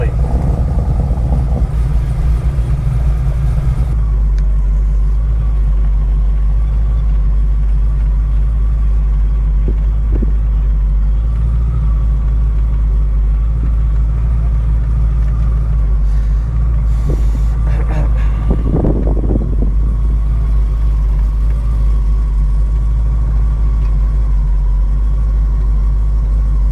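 Supercharged 1966 Ford Mustang GT engine holds a deep, steady rumble close by for the whole stretch, with faint voices in the background.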